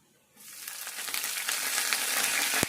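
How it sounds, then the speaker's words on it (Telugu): Curry leaves hit hot oil in a tempering for dal, bursting into a loud, steady sizzle that builds after a quiet start and keeps crackling close up, with a sharp pop near the end. "ఇప్పుడు కరివేపాకు వేసుకోవాలి."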